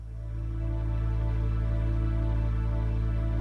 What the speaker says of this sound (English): A sus is a suspended 4th chord